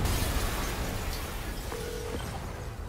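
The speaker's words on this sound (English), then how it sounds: "Yuri, an explosion just..." An explosion in the Spider-Man PS4 video game during the Kingpin fight: a loud, dense roar of blast noise and debris that fills the scene from start to end, with a brief tonal whine partway through.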